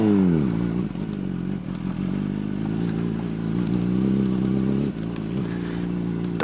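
A motorcycle ridden along a street, its engine droning steadily and loud up close with slight shifts in pitch, a brief dip near the end, and a faint rattle over the road noise.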